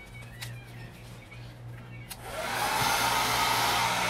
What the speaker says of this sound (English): then let me get my hair dryer